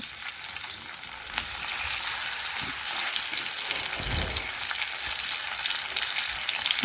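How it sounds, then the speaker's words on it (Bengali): Fish frying in hot oil in a wok, a steady close hiss and crackle of sizzling throughout with occasional louder spatters, no voices. "এখন গরম তেলের মধ্যে মাছগুলো আমি এই দেখুন দিয়ে দিচ্ছি"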